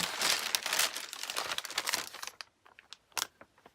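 A packaging bag nested inside another bag, Kiddy Land style, is opened for San-X character goods, giving about two and a half seconds of dense plastic crinkling and rustling, then a few sparse crackles and taps, close and fairly quiet.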